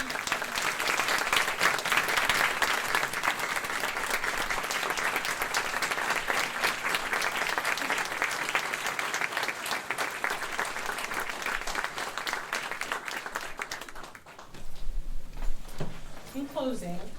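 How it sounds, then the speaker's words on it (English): Sustained, dense audience applause at a ceremony announcing a gift to establish a new dental school in Texas, steady for about fourteen seconds, then dropping away into a brief lull with a few voices. "Woody and Gayle, we want to applaud you all one more time"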